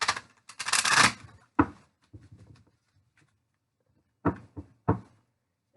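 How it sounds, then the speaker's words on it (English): A deck of tarot cards is shuffled by hand, giving a dense riffling burst at the start, then scattered soft taps and slaps of cards, with a few sharper clicks near the end in a quiet room. "I will shuffle once on screen."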